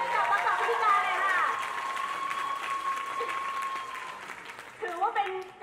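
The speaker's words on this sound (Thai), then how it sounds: "เราปรบมือดังๆอีกครั้งหนึ่ง" Applause from an audience at a Thai series launch event, a broad steady clatter of many hands, with a voice speaking and calling out over it, and a held electronic tone in the middle.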